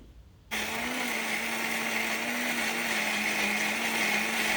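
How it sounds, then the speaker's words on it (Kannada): A mixer grinder switches on abruptly after a brief quiet moment, grinding a fine spice paste, and whirs at a steady high-pitched drone, loud and close, running continuously. "ಮಿಕ್ಸಿ ಜಾರ್ಗೆ ಹಾಕಿ ಫೈನ್ ಪೇಸ್ಟ್ ಮಾಡ್ಕೊಳ್ಳೋಣ ಬನ್ನಿ"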